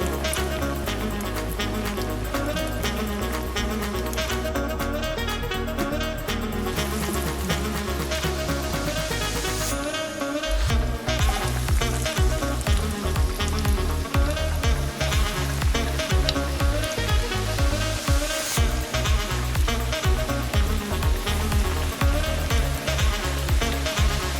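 A breaded beef cutlet fries in hot oil with a dense, loud, continuous sizzle and crackle that rises sharply about halfway through, with bubbling pops throughout.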